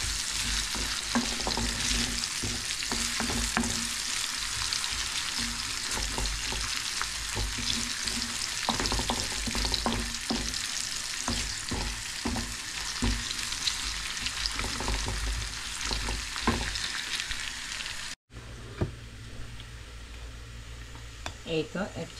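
Spinach fries in a pan with a spoonful of ghee, giving a dense, continuous sizzle broken by repeated scraping stirs, close and steady until a brief cut near the end.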